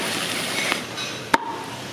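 Fried meat being chopped into pieces at a busy Madura food stall gives one sharp, close knock of a blade on a board, with a fainter tap before it over a steady background hiss.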